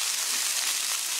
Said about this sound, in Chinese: 油热下蒜苗。 稍微炒一下就行，